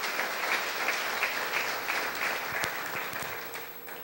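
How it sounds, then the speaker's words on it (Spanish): A church congregation applauding during a sermon, a dense, sustained wash of clapping from many hands that holds steady and fades slightly near the end. "¿Cuántos aplauden el nombre del Eterno?"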